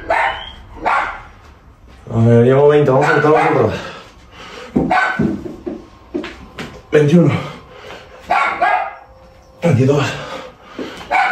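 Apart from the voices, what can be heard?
female dog barking repeatedly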